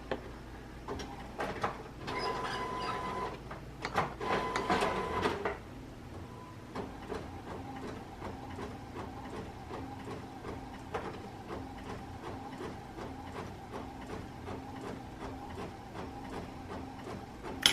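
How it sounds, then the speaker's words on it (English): A home printer printing a page, with a busy burst of mechanical feeding and whirring noise at first, then a quieter steady rhythmic chugging and ticking as the page moves through. "I'm printing a page so that I could maybe mat some more here"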